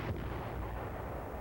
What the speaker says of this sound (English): they get protective fire from 7th Division artillery and a hot reception from the enemy